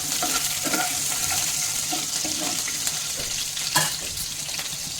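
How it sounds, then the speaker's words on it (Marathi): Green chillies fry in oil with roasted peanuts for sabudana khichdi, a constant loud close sizzle broken by occasional soft stirring scrapes, with no talk. "आता आपण त्याच्यामध्ये हिरवी मिरची टाकणार आहोत"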